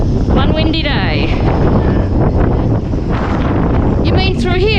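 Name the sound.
strong wind blowing over a boat yard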